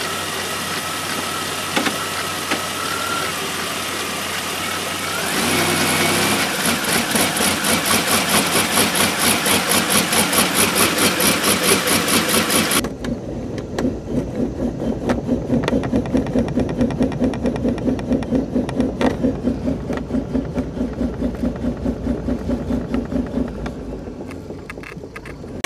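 2005 Chevy Equinox engine running at idle, a steady close mechanical drone that changes character partway through as the revs and load shift, with a faint rhythmic pulsing throughout.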